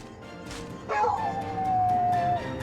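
In the video game Indivisible, a dog lets out one long, loud, close howl that holds a steady pitch before fading, with no voices over it.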